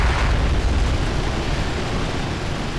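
Grenade blasts in a Wargames online battle merge into a continuous loud, rumbling roar of explosions with no clear gaps, heard without voices.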